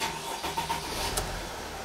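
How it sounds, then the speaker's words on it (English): A Mercedes Sprinter van engine with a cylinder misfire cranks and starts, settling into a low, steady running hum, fairly faint and alone with no talking. "Let's start the engine and see if it's gonna run better."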